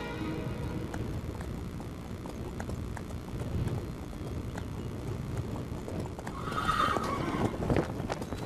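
Horses neighing and whinnying with hooves clip-clopping outdoors, a steady rhythmic trot under light wind noise, with one louder whinny near the end and no speech.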